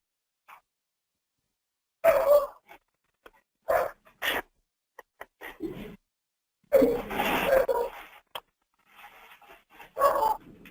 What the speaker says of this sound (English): I swear I hear a dog.